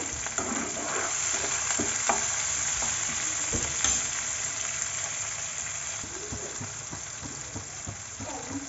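Chopped tomatoes and onions with salt fry in a hot pan, making a loud, constant sizzle with occasional clinks and scrapes from stirring, and no voices over it.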